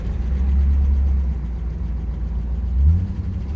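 A 1986 Oldsmobile Cutlass engine drones low and steady, then rises in a brief surge near the end as the transmission kicks down, with no voices over it.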